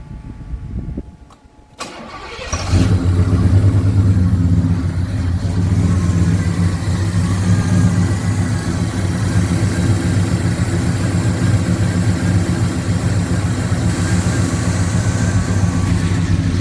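A Pontiac 400 V8 fitted with a Holley Sniper fuel injection system cranks briefly, then fires and settles into a loud, lumpy, uneven idle from an aggressive cam that runs on steadily nearby.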